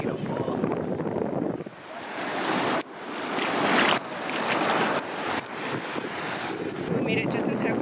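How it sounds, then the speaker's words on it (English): Strong wind buffeting the microphone at Makalawena beach in Hawaii at sunset, a continuous loud roar with surf-like rushes throughout, a voice faintly underneath. "It's so windy."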